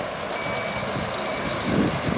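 A septic truck reverses with a steady, repeating backup alarm beeping close by over its engine rumble.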